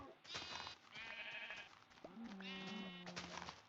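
Minecraft sheep bleat in two or three wavering, nasal calls close together, fairly faint, with soft game ambience between.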